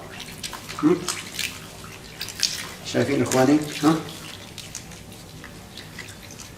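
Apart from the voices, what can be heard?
water running over sheep tail fat with salt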